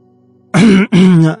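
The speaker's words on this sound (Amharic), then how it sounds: "በመጨረሻ ትግስቱ ተሟጠጠና ጉሮሮውን አጥርቶ ሰላምታ አቀረበላቸው።" A man clears his throat in two close, loud, rasping pushes after a moment of quiet room tone, heard alone in a calm, silent setting.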